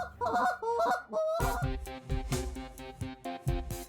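A hand-blown goose call of a custom design, sounded in competition-style calling, gives a rapid series of loud, close honks and clucks that closely imitate a goose, dense and rhythmic across the whole stretch with no talking.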